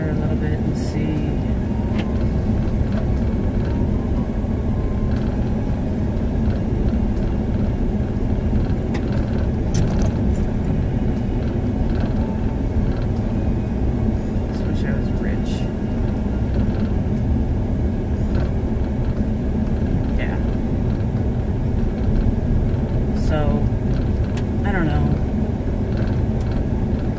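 A car is driven on a road for a brake test, its engine and road rumble a constant close drone throughout, with a voice speaking intermittently over the noise.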